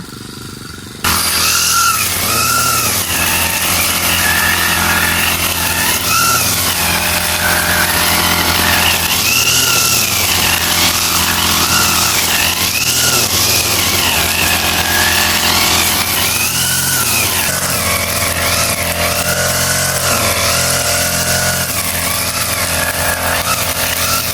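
A gasoline grass cutter engine runs steadily and loud outdoors by a roadside, with a continuous high whine and repeated rising and falling surges in pitch as the motor works, after a brief quiet start.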